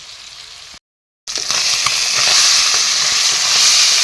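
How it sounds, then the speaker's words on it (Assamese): Fish frying in a pan gives a loud, steady sizzle and hiss up close, growing after a short silent break early on, with no talk over it. "এতিয়া মই মাছখিনি অলপ টাইম ভাজি ল'ম।"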